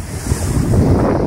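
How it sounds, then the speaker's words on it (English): Waves crash against a lakeshore breakwater at Woodbine Beach, a loud, continuous roar of surf and spray mixed with heavy wind buffeting close by, with no voices. "But some of these waves are coming up"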